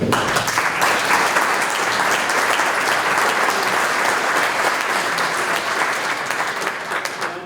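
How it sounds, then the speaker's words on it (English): A big, sustained round of applause for the Chamber at an annual meeting and awards banquet, a thick wash of many hands clapping that stays loud and then eases slightly toward the end. "I want to give the Chamber a big round of applause."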